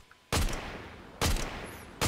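Three loud, sharp sniper rifle shots ring out in a battle royale video game, each a sudden blast with a short decaying tail, spaced about a second apart.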